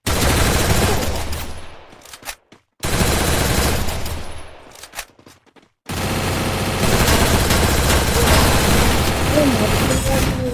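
Rapid gunfire in a shooting video game rattles in dense, loud bursts, cut off abruptly twice by silent gaps before resuming steadily, with players talking over the shooting.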